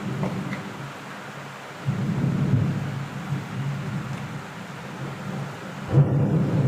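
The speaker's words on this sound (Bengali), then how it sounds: "প্রচণ্ড বাইরে বৃষ্টি হচ্ছে আকাশ চমকাচ্ছে" Outdoors, a downpour hisses steadily as thunder rumbles low and heavy in two main swells, the second starting with a sharp crack before rolling on.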